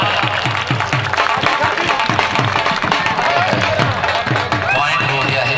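A crowd claps rapidly and continuously at an open kabaddi match in Raikalan, a dense roar of hands that sits under loud, constant commentary.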